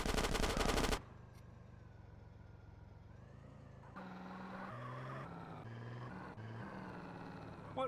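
Automatic gunfire from Grand Theft Auto San Andreas, a dense loud burst in the first second, then engine-like droning and stepped tones continuing alone without speech.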